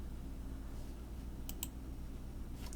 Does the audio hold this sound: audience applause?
no